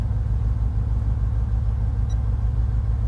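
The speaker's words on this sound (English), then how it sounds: "number 8 is still misfiring" A V8 engine idles with its number 8 cylinder misfiring, a loud, close, low rumble with an uneven, lumpy pulse throughout.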